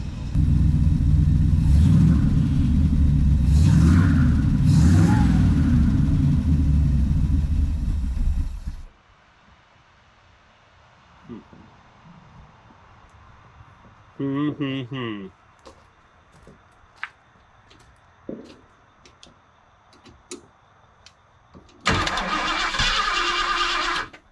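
A 1976 Ford Ranchero 500 V8 with a big cam runs loud and close with a lumpy rumble for several seconds, then cuts off. People talk, and the engine roars again briefly at the end.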